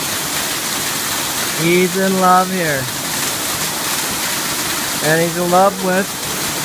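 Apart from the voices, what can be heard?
waterfall rushing water, Hawaii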